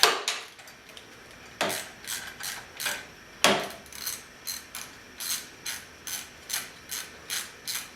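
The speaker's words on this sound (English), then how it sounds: "First step, of course, is to remove the bolt with a 5/8 socket." A 5/8 socket ratchet loosens a bolt on a Polaris ATV clutch. It gives short bursts of rapid metallic clicks that repeat stroke after stroke, close up in a quiet space.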